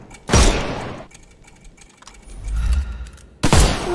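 Two loud sharp bursts of gunfire in a Sherlock Holmes video game, shooting the armor off enemies, one near the start and one at the end, with a low rumbling thud between them.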